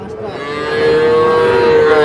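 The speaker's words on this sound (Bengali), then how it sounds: "এই পাশে যেগুলো দেখছি এগুলো সবই ষাঁড় বাচ্চা।" A young bull calf at a rural cattle market gives a single loud, drawn-out moo close by that swells and holds to the end.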